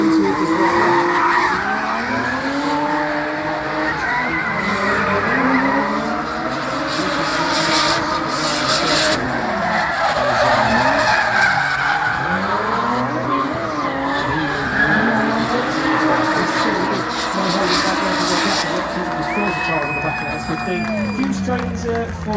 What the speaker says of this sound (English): Nice initiation there, smoke from the tyres all the way from the start line for Rob Black.